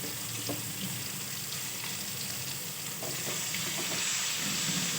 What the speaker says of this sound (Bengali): কাঁচা লঙ্কা, 5 ফোড়ন, তেজপাতা আর 2টো এলাচ আমি তেলটার মধ্যে দিয়ে দিচ্ছি